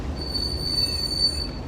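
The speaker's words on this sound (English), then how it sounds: "yeah, that's the Land Rover brakes." A Land Rover's brakes give a thin, steady high-pitched squeal while the vehicle slows at a roundabout, sustained over low road and engine rumble with no talking.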